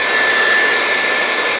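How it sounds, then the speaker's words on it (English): A hairdryer blows loud and steady with a constant whirring hiss, running alone for over a second before cutting off abruptly. "I see your blowtorch, and I raise you a hairdryer."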